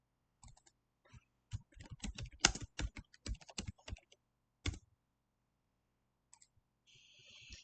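Typing on a computer keyboard: a quick burst of close, crisp key clicks at an uneven rhythm, followed by a pause and a few isolated taps.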